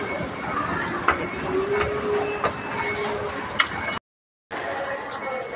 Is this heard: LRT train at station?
yes